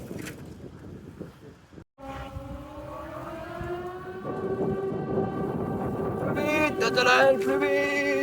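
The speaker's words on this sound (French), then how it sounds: "C'est la sirène tous les mercredis à midi pile." A civil defense siren wails in Strasbourg during its weekly Wednesday noon test, rising from a quiet outdoor background into a sustained, steadily louder tone heard from some distance with wind noise.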